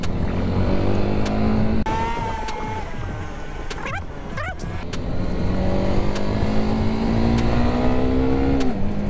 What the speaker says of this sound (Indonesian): Turunin tanpa tarik kopling, nurut, asik.